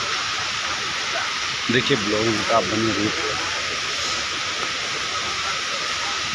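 Small Sedam waterfall in Sarguja, Chhattisgarh, a steady broad rush of falling water heard close and continuous, with a voice talking briefly over it midway.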